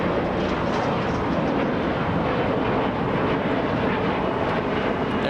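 A small Embraer E175 jet at Los Angeles International Airport produces a steady, dense engine rumble and roar, loud and unbroken throughout.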